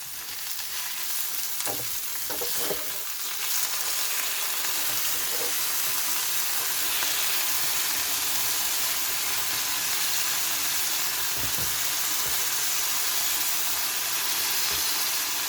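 Diced potatoes sizzle steadily on a hot griddle, a continuous close frying hiss with occasional scraping and stirring clatter, no voices over it.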